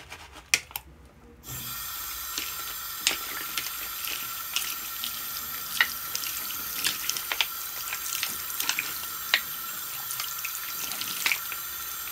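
Tap water runs steadily into a sink while paintbrushes are rinsed, a continuous close splashing stream starting after a brief quiet opening, with occasional small knocks and rubbing sounds.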